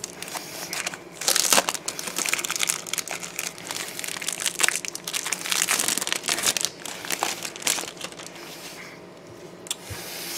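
Wrapped Tiny Epic Quest game cards are opened, giving close, steady plastic crinkling and crumpling that runs for about ten seconds with a few louder crackles.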